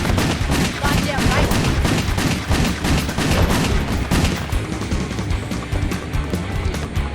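Heavy, sustained gunfire in the PS3 action game WET (2009), with dense overlapping shots and booms that thin out toward the end, loud and close.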